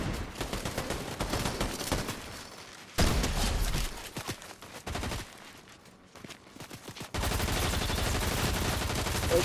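Gunfire in a Fortnite match, rapid bursts of close, loud shots that break off into short pauses and then resume as a sustained volley.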